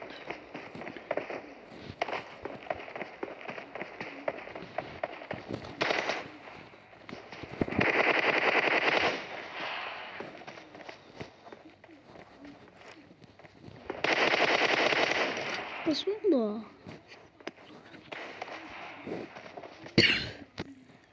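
Gunfire in the PUBG video game, sharp single shots scattered through the clip with two longer bursts of rapid fire, heard over quiet game ambience without talk.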